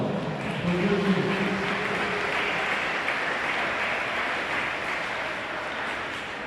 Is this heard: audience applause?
yes